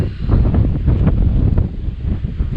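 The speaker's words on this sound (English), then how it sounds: "Windy, very, very windy." Loud, continuous wind buffets the microphone at a campsite in the Boundary Waters, with a deep, roaring rumble, gusting steadily with no other sounds.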